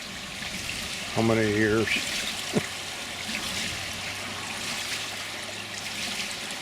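A small trickle of water runs at a homemade water wheel as a soft, steady wash, with someone briefly speaking over it partway through.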